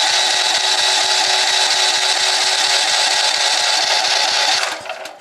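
A Champion 9000W dual fuel generator runs with a steady, loud, mechanical drone and a fast pulsing beat, close up and with no voices, before fading out in the last half second as it dies.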